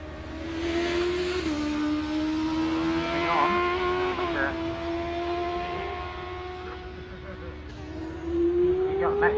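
A Lola race car climbing a hill climb course toward the finish at Loton Park, its engine note holding a loud steady drone with gear-change shifts, under continuous commentary.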